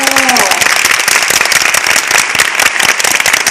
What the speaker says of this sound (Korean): 여러분 축하 박수 한번 쳐주세요